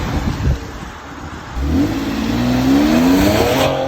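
BMW X3 M with the S58 engine accelerating hard, a loud rising engine roar building after a brief quieter stretch, heard close up without talk.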